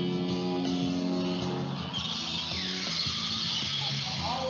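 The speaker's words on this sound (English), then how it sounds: "Give us a honk." A ship's horn from the lake freighter Whitefish Bay passing through a canal lock, a long sustained low blaring tone held for several seconds at steady loudness, fairly close.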